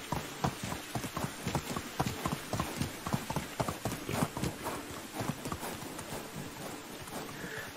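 Steady rhythmic clip-clop of horse hooves at a walking pace in the video game Medieval Dynasty, close and continuous over a soft background hiss.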